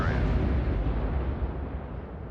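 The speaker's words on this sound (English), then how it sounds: "That was a small explosion for 500 megatons." A big movie explosion from the 1978 Superman film, a loud, sustained low rumbling blast that fills the whole stretch and slowly fades, with a brief bright burst at the start.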